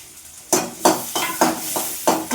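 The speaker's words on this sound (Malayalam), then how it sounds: "വെല്ലുള്ളി ഇടുക വെല്ലുള്ളിയും ചെറിയുള്ളിയും കൂടെ ഉണ്ട്" Garlic and small onions being stirred and fried in a pan, with a steady sizzle broken by several loud, close scraping stirs at roughly regular intervals and no talk.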